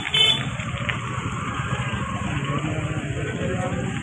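A vehicle engine drones steadily from the inside while riding along a road toward a busy Diwali market, a continuous low rumble with no talk.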